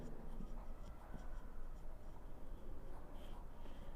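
Pen or pencil scratching on paper as a short mathematical note is written, faint continuous scraping strokes over a quiet background hum, heard alone without speech.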